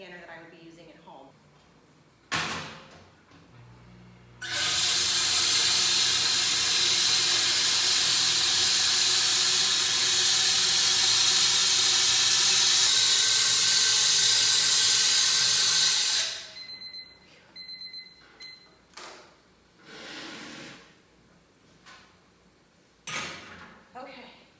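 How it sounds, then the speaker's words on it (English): Loud, steady steam hiss from a commercial canning steamer sanitizing jars for pressure-canned beef bone broth, rushing for about twelve seconds, with talk before and after and some clatter of jars or doors. "Okay, it's a lot of steam."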